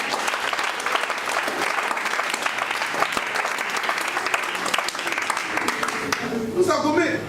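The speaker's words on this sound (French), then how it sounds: "Est-ce que quelqu'un peut me donner une acclamation?" A congregation at a French-language church service bursts into loud, sustained applause that fills the whole stretch, dense and close, with a few voices rising near the end.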